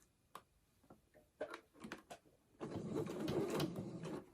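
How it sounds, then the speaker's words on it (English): A sewing machine stitching a straight seam across a fabric tote bag: a few scattered clicks and taps, then a steady whirring, chattering run of stitches that continues to the end, close and moderately quiet. "I'm going to start with just sewing a straight seam across this"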